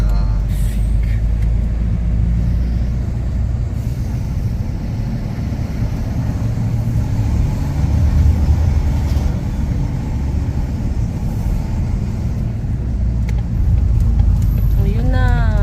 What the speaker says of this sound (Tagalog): My gosh, so traffic.